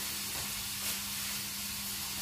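Browning onions with mace added sizzle in a pan while cooking kaju butter masala, a steady close frying hiss with a faint low hum beneath and no talking.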